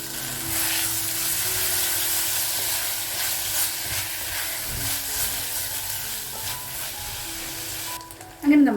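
Small tomato and shallots sautéing in a hot pan give a continuous close sizzle with faint stirring, steady throughout, then a brief louder clatter at the very end.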